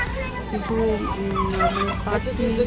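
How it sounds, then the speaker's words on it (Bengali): Several roosters and fowl kept in a small enclosure at a resort, with repeated gobbling, clucking calls rising over a busy background of nearby chatter and children's voices. "এখানে যে চারটি মোরগগুলো আছে"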